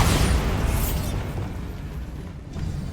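A Bombarda spell explosion in Hogwarts Legacy, one loud broad blast at the start that rumbles and fades away over a couple of seconds.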